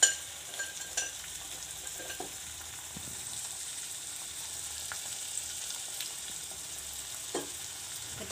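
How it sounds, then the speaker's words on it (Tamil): Tomatoes sautéing in a pan for a ridge gourd and prawn kootu, a quiet continuous sizzle with faint scattered stirring clicks. "தக்காளி நல்லா வதங்கட்டும்."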